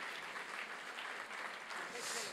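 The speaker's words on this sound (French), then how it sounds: "que je vous demande d'applaudir" An audience at a literary prize ceremony applauds continuously, a dense, even patter of many hands with no break.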